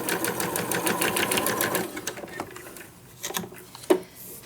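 A sewing machine runs in a quick, rapid burst of stitching on a sewing roll, then stops, leaving a few faint handling clicks and knocks close by.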